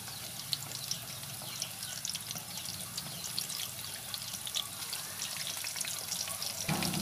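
A soft, steady crackling sizzle of food frying in oil, close and continuous with tiny pops.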